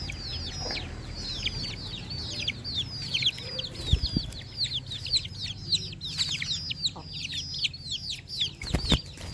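A flock of chickens cluck and chirp almost without pause, many overlapping calls close by, with a few brief wing flaps and soft low thumps from the birds.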